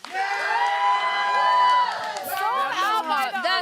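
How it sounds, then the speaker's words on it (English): A studio audience cheers and whoops for a contest winner on a sports show, a loud, sustained crowd roar with high shouts rising over it. "Cheer your loudest for whoever you think won."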